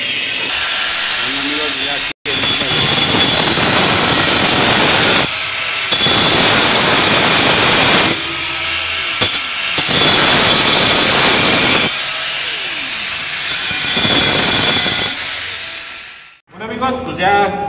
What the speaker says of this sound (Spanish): Se lo vamos a rebajar ahorita con el esmeril de ladito.